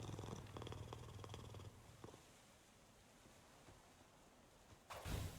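Cat purring in the video game Hades 2, a low, rumbling purr heard near and fairly quiet for the first couple of seconds, followed by faint ambience and a brief louder burst near the end.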